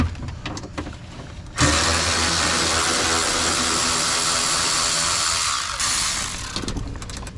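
Ratchet wrench cranking out bolts on a 2005 Chevrolet Avalanche window regulator, a few clicks and then a long steady buzzing run of fast pawl clicks, loud and close.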